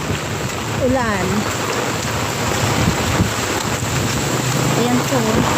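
Heavy rain and strong gusting wind from Typhoon Paeng batter a house as a steady, loud broadband roar that continues throughout, with a faint voice surfacing briefly.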